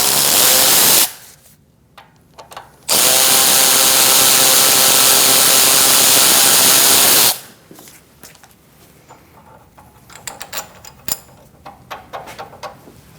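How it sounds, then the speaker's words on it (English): A power ratchet unscrews a rear control arm bolt on a 2008-2014 Mercedes-Benz C300, running in two loud, close, steady whirring bursts, a short one then a longer one, followed by quieter clicks and handling noises. "you can use a ratchet on the other end, power ratchet, and just unscrew it out"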